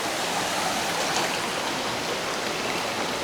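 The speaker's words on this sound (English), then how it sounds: "Here we have Emilio going paddling down a river" A river rushes and splashes in a steady, dense wash of water noise during a paddling trip, loud and continuous without a break.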